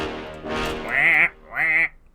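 Layered synth brass in a hip-hop beat, a low brass part paired with a brighter high brass line, playing two loud sustained swelling stabs with a nasal, duck-like buzz after a softer lead-in.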